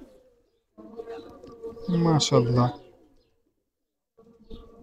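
A pigeon from a loft of racing-bred birds gives a short burst of low, throaty cooing partway through, set between stretches of someone talking nearby.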